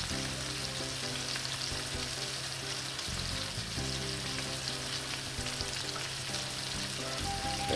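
Salmon fillets pan-seared for a creamy spinach and parmesan sauce dish give a steady, moderately quiet sizzle throughout, with faint tonal background hum and no speech.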